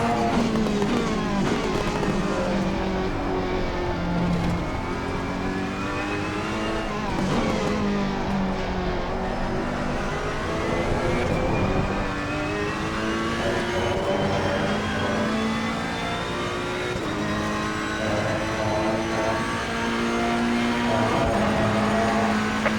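A Ferrari race car engine screams through repeated accelerations at Silverstone in Assetto Corsa Competizione, pitch climbing and dropping through gear changes, loud and close and continuous for the whole stretch.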